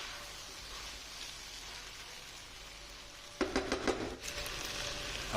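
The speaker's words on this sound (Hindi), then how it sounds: "इसको हिला देंगे, स्टर कर देंगे" Food is stirred in a pan over a low flame, a soft steady sizzle giving way to a short run of scraping, clattering strokes near the end, with no voices.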